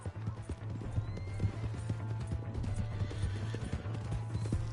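Steady clip-clopping hooves of a horse at a gallop in the video game Red Dead Redemption 2, with a whinny breaking through over a constant low hum and busy background noise.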